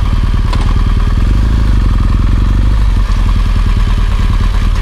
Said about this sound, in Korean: 그러니까 전체적으로 머플러 소리가 굉장히 크게 들리거든요.